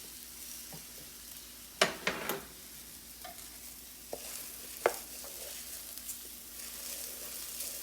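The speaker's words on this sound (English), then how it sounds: "I want you to hear the sound of the risotto" Risotto rice sautéing dry in a hot pan, giving a faint steady sizzle with a few sharp crackles and pops scattered through, close by and with no talking.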